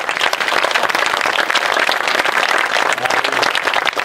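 Theatre audience applauding after an amateur Sicilian comedy performance in Trapani, a dense, steady wash of clapping from many hands that stays loud throughout.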